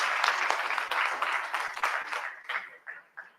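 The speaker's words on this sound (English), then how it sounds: "I would request all of you to give her a round of applause" An audience at a migration event claps warmly for a fellowship graduate, a lively burst of applause that gradually thins into a few separate claps.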